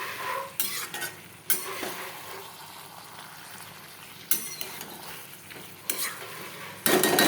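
Goat liver chachchori cooks in a pan, a constant sizzle broken by bursts of vigorous spatula scraping and metal clatter against the pan, close and fairly loud.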